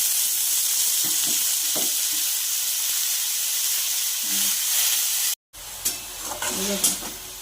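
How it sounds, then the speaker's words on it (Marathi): Loud, steady sizzling of tempering oil on a hot pan, with a brief cut and then renewed crackling and stirring as washed fenugreek greens are tossed in. "आता भाजी आपण फोडणीला टाकूया"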